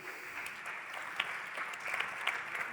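An audience at a startup ecosystem meetup claps for a consultant from BGE Sud-Ouest, a steady, fairly even round of applause with a few sharper individual claps standing out near the end.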